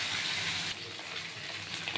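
Bhetki fish sizzles and crackles steadily in oil from close by, a bright hissing fry that dips briefly in loudness then carries on.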